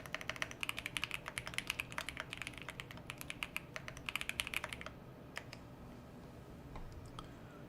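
Fast typing on a Bubble 75 mechanical keyboard fitted with Aqua King switches, a quiet, dense run of clacks that thins out to a few scattered keystrokes.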